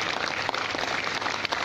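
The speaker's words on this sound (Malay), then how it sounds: "kita berikan tepukan yang maha gemuruh kepada mereka" Thunderous applause from an audience at a university alumni talk event, a dense continuous clatter of many hands clapping at steady loudness throughout.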